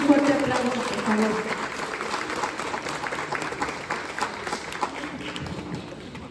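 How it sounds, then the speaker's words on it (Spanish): Applause from an audience at a school graduation and flag-honors ceremony, a broad steady patter of clapping with crowd murmur and some background voices throughout. "Démosles un fuerte aplauso,"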